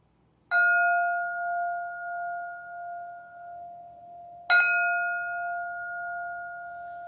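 A meditation bell struck twice, about four seconds apart, each strike a clear bright ring that hangs on in a long, slowly fading sustained tone, alone and without voices.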